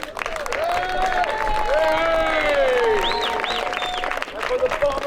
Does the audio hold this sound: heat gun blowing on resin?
no